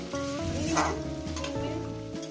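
Fish curry masala with ginger-cumin paste sautéing in a pan over medium gas, a loud close sizzle with scraping stirs of a spatula and faint clinks, no voices.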